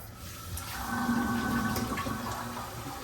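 Water runs steadily from a tap to rinse a freshly shaved bald head, a continuous close splashing rush with no talking.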